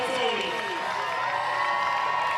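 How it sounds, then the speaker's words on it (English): Crowd at the FISE World Edmonton 2016 mountain bike slopestyle pro semi-final cheering and shouting loudly and steadily, a dense roar of voices with whoops over it. "The Edmonton crowd is getting loud a bit."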